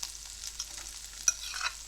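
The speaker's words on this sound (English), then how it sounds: "We'll put the butter in. There you go. Put 2 butters done. Then we'll put some garlic in it." Garlic frying in butter in a pan gives a soft, steady sizzle with light crackles and one sharper pop near the end. It stays faint and there is no talking.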